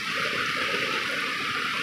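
Heavy rain over floodwater rising around rural houses, a dense, steady rushing and hiss of falling and flowing water, close and loud without a break.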